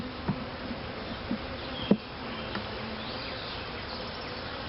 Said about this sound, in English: There are a few bees in there, but not too many.